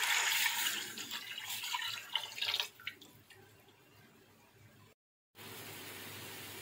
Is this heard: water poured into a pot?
yes